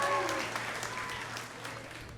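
An audience at a stand-up comedy set claps, a steady, moderate wash of applause that slowly fades across the moment, heard from the crowd in a room.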